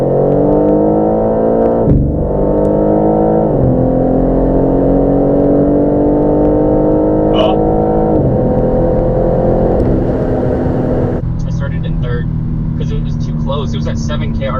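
A 2024 BMW M2 and a 2024 M4 Competition RWD race hard, with a loud engine roaring from inside a car, climbing in pitch through several gear shifts and dropping at each one. Voices talk underneath.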